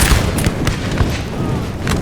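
Napoleon: Total War battle with cannons firing: heavy booming artillery reports and thuds pile up densely over a couple of seconds, loud and close, with no clear talk.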